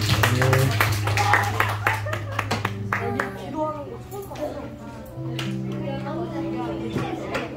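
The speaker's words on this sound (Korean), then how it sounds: "우리 하나님께 영광을 박수 드리겠습니다" A congregation claps together during a Sunday church service, a dense stretch of hand claps over sustained musical tones, with voices talking and singing throughout.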